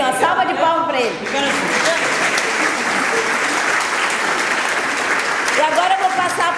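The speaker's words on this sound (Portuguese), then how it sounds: "Salva de palmas para ele." An audience at a book launch breaks into steady, dense applause for a guest, sustained clapping throughout with a voice briefly audible at the start and again near the end.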